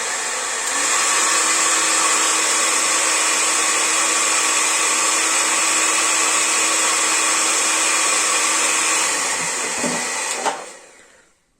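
An Ardesto HD-Y220PRO hair dryer on its second setting, about 77 dB, blows steadily with a loud, even whooshing hum, then winds down and cuts off near the end.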